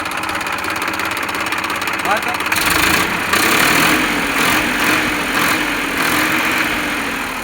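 A Massey Ferguson 1035 DI Mahashakti tractor engine idles with a steady, close diesel rumble that grows louder and rougher after a few seconds, with voices nearby.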